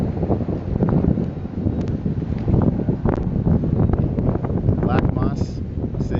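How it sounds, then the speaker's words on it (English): Gusty wind buffets the microphone at a roadside stop on a cross-country road trip, a loud, rough, continuous rumble, with people talking underneath. "The wind, the windy view."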